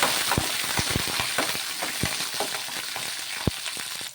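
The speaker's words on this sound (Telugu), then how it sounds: "పల్లీలు వేసేసుకొని ఇవి కొంచెం కలర్ చేంజ్ అయ్యే వరకు ఫ్రై చేసేసుకోవాలి" Peanuts and green chillies fry in a pan with a steady, close sizzle, punctuated by sharp pops and stirring taps at irregular intervals, and no voices.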